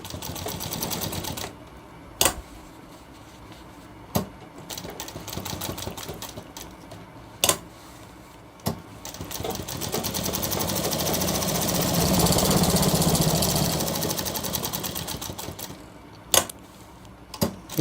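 A sewing machine stitches a shirt cuff in long continuous runs of even mechanical whirring, broken by brief pauses with sharp knocks and clicks between passes.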